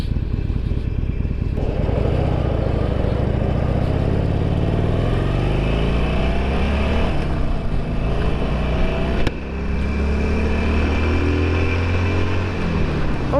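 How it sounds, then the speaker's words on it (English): A BMW motorcycle rides around town at night with a steady, loud engine drone and road rumble throughout, pitch rising and falling gently as it accelerates and eases off. "I'm just doing like a little jaunt around town just to get the bike a little running room."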